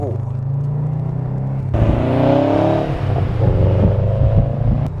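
A Subaru WRX STI pulls away on back roads with a steady low engine drone that rises as it revs, heard from inside the car, with a voice breaking in partway through.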